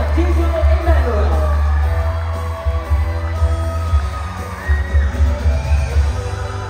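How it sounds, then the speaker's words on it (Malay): A pageant audience at a state-level Sabah competition cheers, whoops and yells for a runner-up, a loud, close roar of many voices with a steady low hum underneath. "Kita berikan tepukan kepada Saudara Diego Emmanuel."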